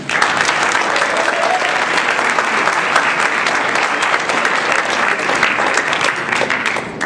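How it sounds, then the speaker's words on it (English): An audience at a Haiti Independence celebration applauds the event's coordinators, a loud, dense, sustained round of clapping that stays even for several seconds before easing slightly at the end. "So let's give it a round of applause for them"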